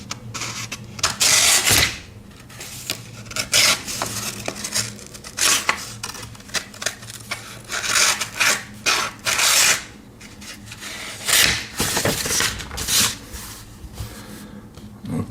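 A Victorinox Swiss Army knife blade is sharpened in repeated close rasping strokes, each scrape a short loud burst separated by brief pauses, with no talking.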